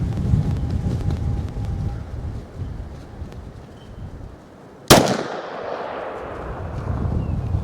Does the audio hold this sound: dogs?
no